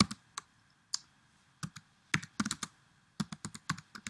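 Keys tapped on a computer keyboard in a quiet room, a sparse run of sharp clicks, single and in quick clusters, close and clear with pauses between.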